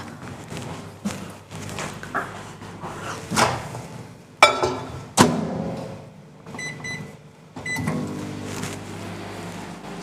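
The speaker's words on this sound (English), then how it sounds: "just putting it in the microwave for 20 seconds" A microwave oven used to heat chocolate hums at a low level, broken by a series of clunks, thuds and beeps of the door and buttons, close and irregular.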